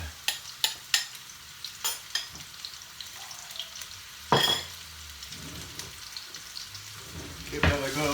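Chopped onions tipped into a hot pan of spicy mussel mixture, with sharp clattering drops, then a rising loud sizzle and frying hiss as they are stirred, close up and with no talking over it.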